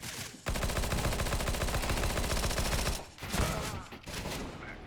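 Dense, rapid gunfire rattles continuously in a cloud-streamed competitive shooter match with a bomb objective, loud and sustained for a few seconds, then breaks into scattered shots and softer sounds after a brief pause.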